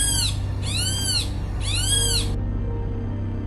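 Three shrill, arching bird calls ring out in quick succession, loud and close, each a bright cascading cry, over a steady low hum that continues alone after the calls stop.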